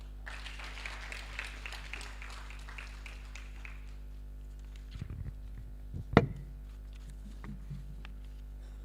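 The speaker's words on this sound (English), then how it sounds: "A big hand clap to our chief guest for those very wonderful remarks." An audience at the launch of Uganda's harmonized integrated survey reports applauds the chief guest, a quiet, distant patter of clapping over steady hum that dies away, followed by a few shuffles and knocks.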